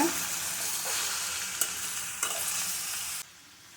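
Shallots and green chilli sauté in a pan over a medium flame for a bottle gourd koottu, giving a steady close sizzle broken by a few sharp stirring scrapes before the sizzle drops away near the end.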